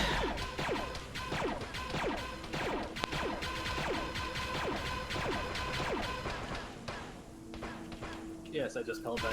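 Satchel charge explosions go off in Arma 3 during a prison riot sweep, a rapid series of crashing blasts and thuds with debris, continuing steadily for several seconds before quieter clatter at the end.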